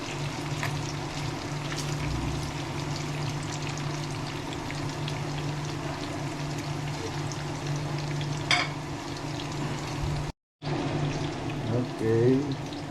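Ten eggs cooking together in a single pan: a steady close frying crackle with spatula scrapes and stirring, a low hum beneath, and a brief gap in the sound near the end.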